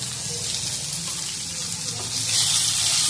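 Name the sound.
tomato frying with ginger, garlic and onion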